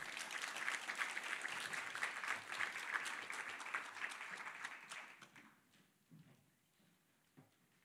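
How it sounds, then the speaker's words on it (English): Audience at a League of Women Voters panel event applauds the panelists. Steady, fairly quiet clapping from a modest crowd runs about five seconds, then tapers off to scattered claps and faint room noise. "Let's give our panel a round of applause"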